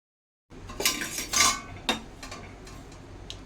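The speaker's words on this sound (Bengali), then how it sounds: "সর্ষের তেল আর কালো সর্ষে, সাদা সর্ষে, লঙ্কা, ধনে, পাঁচফোড়ন আর জিরে, এগুলো এখন রোস্ট করে" A spoon stirs and clinks in a pan where black and white mustard seeds, chilli, coriander, panch phoron and cumin roast in mustard oil, giving a few sharp metallic scrapes and taps over a soft background hiss.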